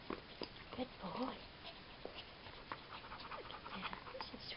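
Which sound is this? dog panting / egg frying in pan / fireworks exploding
dog panting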